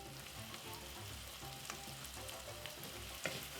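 Onions frying in a pan, seasoned with salt and pepper, a quiet even sizzle with faint crackles and occasional stirring, heard alone without speech.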